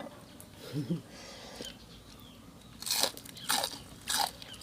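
Crisp fried mushrooms and food are bitten and chewed in three loud crunchy bursts near the end, after a brief hum of voice and quieter shuffling at the start.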